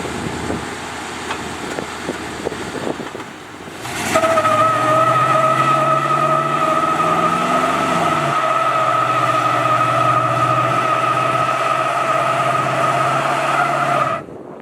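A Box Chevy starts up and its engine settles into a loud, steady drone for about ten seconds, heard close from inside the car before it cuts off near the end.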